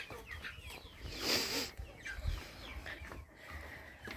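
Chickens cluck nearby on a farm, a busy scatter of short clucks and squawks with faint farmyard noise around them.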